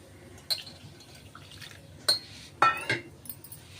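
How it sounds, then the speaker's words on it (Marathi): Small splashes of water added bit by bit to a sabudana and varai batter, a few short drips and light clinks against a bowl, separated by quiet pauses. "थोडं थोडं पाणी घालते।"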